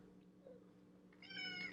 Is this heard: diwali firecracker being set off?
no